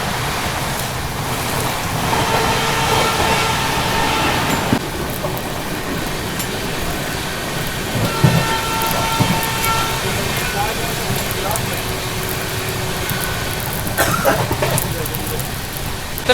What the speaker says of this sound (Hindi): ये देखो भाई साहब जोरदार बारिश हो रही है एकदम।